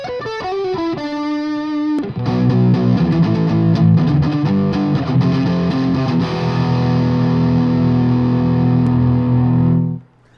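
A distorted Paul Reed Smith SE Silver Sky electric guitar on its neck pickup, with a warm, rounded tone, plays a quick picked run, then strums sustained chords that ring loudly before cutting off.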